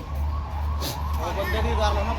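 An ambulance siren wails nearby in traffic at a road accident scene in Punjab, its tone rising and falling while people talk close by.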